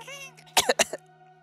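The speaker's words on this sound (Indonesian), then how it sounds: "Batuknya dari gue, bukan dari mereka." A person coughs a few times in a quick close burst against a faint steady hum, in an abandoned tourist site.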